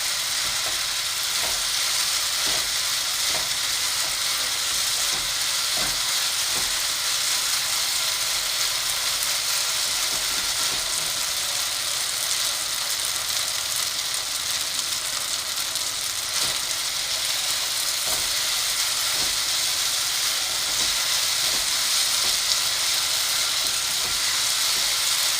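Sago pearls (sabudana) dry-roasting in a pan, giving a steady, even hiss with faint scraping stirs now and then, continuous and moderately close with no talk.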